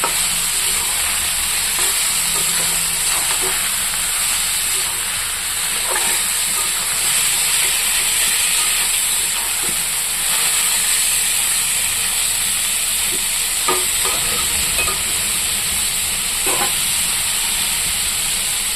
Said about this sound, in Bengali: আমি আলুটা ছেড়ে দিচ্ছি।